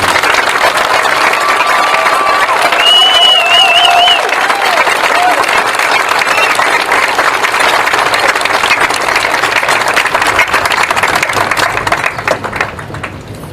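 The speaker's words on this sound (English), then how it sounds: "Let's have a round of applause for our class of" A large crowd at a 2021 graduation ceremony applauds the graduating class steadily and loudly for over ten seconds, with a brief whistle early on, before the clapping starts to thin out at the end.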